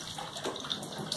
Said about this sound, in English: now we're letting the soapy water drain